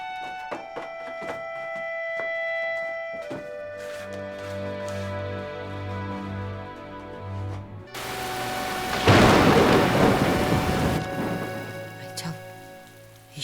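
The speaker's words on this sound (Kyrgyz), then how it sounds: "эшикте жамгыр катуу жаап атат." Heavy rain pours down outside during a thunderstorm, a steady loud wash that swells sharply partway through, with music and voices over the opening stretch.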